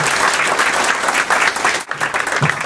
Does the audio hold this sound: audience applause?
yes